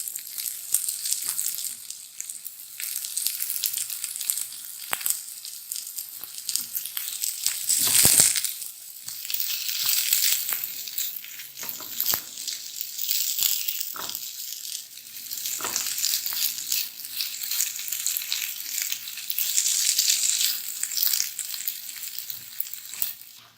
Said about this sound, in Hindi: इसको 1-2 मिनट बस फ्राई करके फिर हम इसमें येलो कलर का जो मैक्रोनीज है वो ऐड करेंगे